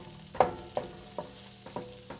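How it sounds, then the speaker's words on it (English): Minced garlic sizzling in melted butter in a pan, a soft steady crackle broken by several light stirring taps at an even pace, close and fairly quiet. "I'm going to add the butter, let it start melting. Let's go ahead and toss in the minced garlic."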